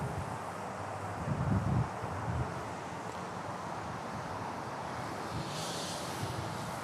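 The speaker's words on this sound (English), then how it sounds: "The wind is blowing." Night wind blowing outdoors, a broad steady rush with microphone buffeting and a few stronger gusts, while distant airport aircraft noise hums faintly in the background.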